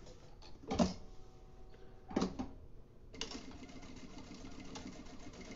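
A sewing machine runs a seam around the edge of a makeup bag, with two short bursts of stitching followed by a longer steady run, close and moderately loud, with no talk.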